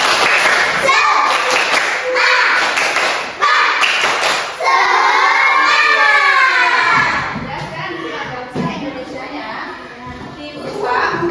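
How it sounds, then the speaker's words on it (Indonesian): An elementary school class does the tepuk semangat clapping chant: children clap rhythmic patterns and shout the chant together loudly, with a sustained sung-shouted stretch in the middle and claps and voices trailing off afterward. "Kita akan tepuk semangat."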